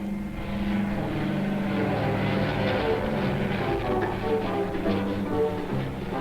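A Coast Guard propeller airplane drones steadily in flight, a fairly distant, even hum that holds at a moderate level throughout with no talk.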